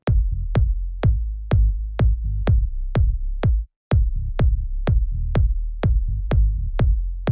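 A steady four-on-the-floor techno kick drum with a heavy sub bass playing at the same time without sidechain ducking, the low end piling up under each punchy hit, one brief gap midway; loud and close, no voices.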